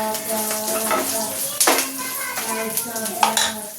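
Garlic frying in a pan for chutney, a continuous sizzle with utensil scrapes and clinks as it is stirred, fairly close.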